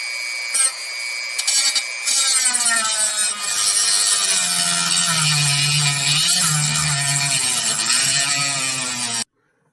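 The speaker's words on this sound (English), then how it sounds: "I used the cutoff wheel and the Dremel tool to cut those standoffs off" A Dremel rotary tool with a cutoff wheel grinds through plastic standoffs on a homemade hand controller for a Meade microfocuser, giving a steady, close, high-pitched whine that dips and rises in pitch as the wheel loads, then stops abruptly.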